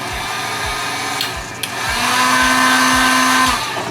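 Heat gun warming Onewheel XR grip tape in small sections, a steady close blowing hum with a rising tone and a couple of faint clicks.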